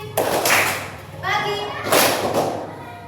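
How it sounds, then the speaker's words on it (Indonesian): Children in a classroom perform a rhythmic clapping chant, two loud bursts of clapping separated by a teacher's and children's chanted voices, close and lively. "Tepuk, tepuk pagi, tepuk siang"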